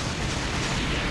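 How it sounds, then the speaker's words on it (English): Explosions from a Naruto fighting game in arcade mode at max difficulty, a dense, loud continuous burst of blasts and booming noise filling the whole moment without pause. "Explosions!"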